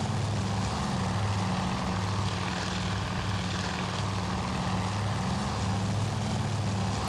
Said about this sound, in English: God, the Devastator's such a piece of shit.